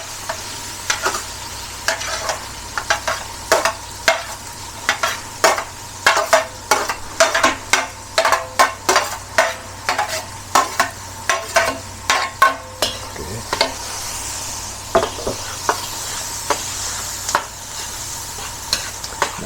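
Chopped garlic and onion sizzle in hot oil in a pan while a utensil scrapes and stirs in a steady rhythm, then the stirring eases off and the frying hiss carries on alone.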